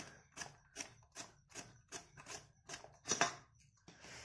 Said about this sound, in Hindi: तो हम देखिए ये लिए हैं रेतने वाला, तो इस तरह से ऐसे ऐसे करके रेतेंगे हम